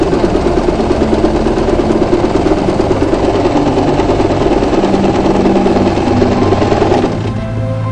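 A sewing machine runs a zigzag stitch in a continuous, even mechanical whir and rapid ticking, loud and close, then slows and fades into a softer hum near the end.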